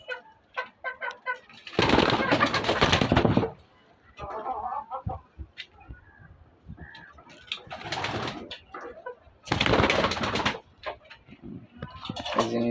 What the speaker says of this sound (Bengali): এখানে আরো আছে কবুতর, বাইরে আছে, এই যে উপরে আছে।